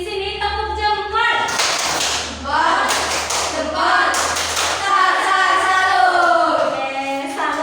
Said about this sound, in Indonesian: Boleh tepuk jempol untuk kita semua yang ada di sini. Tepuk jempol.